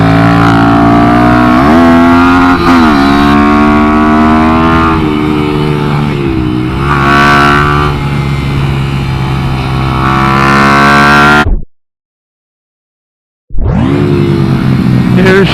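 Minibikes racing on a track, small engines whining loudly and continuously with shifting pitch as they pass close by, then a brief total silence before the roar returns.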